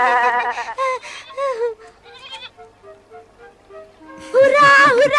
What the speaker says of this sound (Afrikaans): Ons het 'n nuwe klein bokkie.